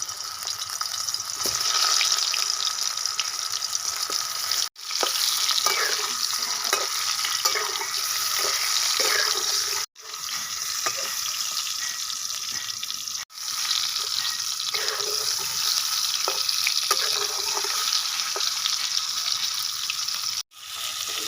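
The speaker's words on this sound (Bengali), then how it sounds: "এবার আমি পুর ভরা পটলগুলো ভেজে নেব তেলে।" Stuffed pointed gourds (potol) in hot mustard oil in a wok, with a steady, bright sizzle across the whole stretch and brief quiet breaks, and no talk.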